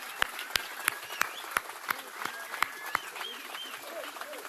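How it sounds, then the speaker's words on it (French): Audience at Marion Maréchal's Reconquête political rentrée speech claps in sharp, evenly spaced beats, a rhythmic ovation with whistles and cheers rising through the crowd noise. "Vous allez l'applaudir."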